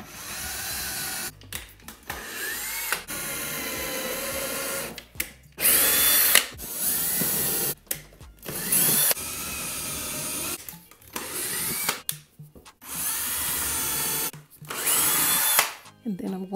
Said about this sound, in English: I'm going to drill one over here